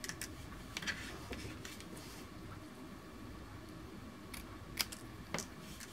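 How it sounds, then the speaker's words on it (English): Scissors snip a small paper banner at a craft table, a few sharp bright snips spread across a quiet background, the clearest near the end. "I'm going to cut a little banner at the end here"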